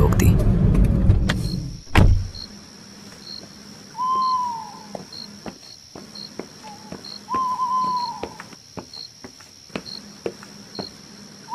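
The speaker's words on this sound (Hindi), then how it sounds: "श्याम ने गाड़ी सड़क के किनारे धीरे से रोक दी।" A car rumbles low as it slowly pulls over at a roadside and comes to a stop with a soft thud, then quiet night ambience follows with chirping birds and hoot-like calls.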